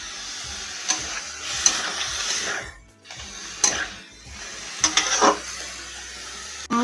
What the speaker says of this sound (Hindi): इसको भून लेते हैं तेल में